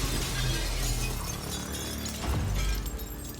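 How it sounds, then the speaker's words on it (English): Glass shatters loudly in the video game Prey, a dense, bright crash with crackling debris filling the whole moment, heard on its own without talk. "the only way I can think of to get out of here is smashing through"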